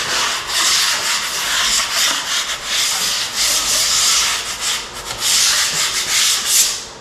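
Drywall joint compound being scraped on a third coat, a close, continuous rasping scrape in long repeated strokes with brief pauses, no voices.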